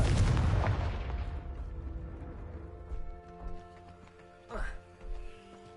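A Confringo fire spell explodes in a Harry Potter video game, opening with a loud, broad burst that decays over a second or two, followed by softer game sounds and a few brief later pops.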